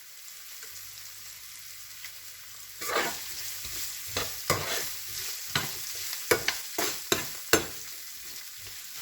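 Vegetables sautéing in a pan with a seasoning cube crumbled in, a soft frying sizzle broken by several sharp scraping stirs of a utensil against the pan, close and fairly quiet.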